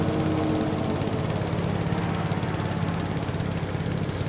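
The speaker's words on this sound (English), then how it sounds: "the sound of the diesel engine is pretty awesome" A diesel engine on the Ropa cart mod in the Farming Simulator 22 game drones in a loud, steady, rumbling run with a fast chugging pulse, heard alone without talk.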